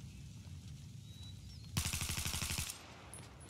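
A fast string of roughly a dozen sharp rifle shots in Battlefield 4, attributed to a DMR, cracks out loudly for about a second after quiet ambience, then fades into a faint tail.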